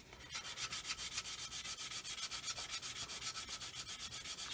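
A sanding stick rubs rhythmically over the plastic wing of a 1/144 scale C-141B Starlifter model, a close, even series of about twenty raspy strokes with no talk.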